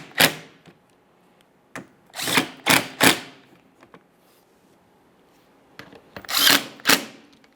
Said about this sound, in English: We can start in the mounting bolts and snug them up.